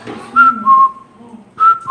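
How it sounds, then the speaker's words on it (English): Someone whistles a short melodic phrase used to call dogs, a few clear bright notes with brief pauses between them, close and alone. "They know that whistle, the dogs."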